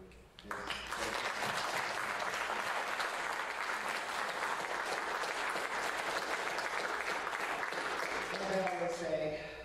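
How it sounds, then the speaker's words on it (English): Sustained applause for a band at a university pops concert, a dense, even roar of many hands that starts abruptly and holds strong, with a few voices emerging near the end. "give a round of applause"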